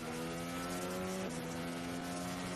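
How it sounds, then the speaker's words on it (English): Formula 1 car engine heard from onboard through the airbox rather than the exhaust, a loud, steady, harsh mechanical drone with strong harmonic tones that shift pitch once as the revs change, running continuously throughout. "you're hearing them through the airbox rather than the exhaust pipe"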